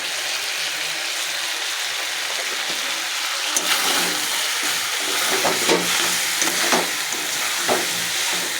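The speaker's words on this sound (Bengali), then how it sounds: "ভালো করে কষিয়ে নিই আমি" Chicken curry masala fries in a pan, a constant close sizzle that grows louder partway through, with scattered stirring clinks and scrapes and no talking.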